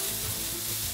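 Pili pili rice being stir-fried in a pan, a loud, dense, continuous sizzle close up with faint stirring texture, heard alone without talk for about a second.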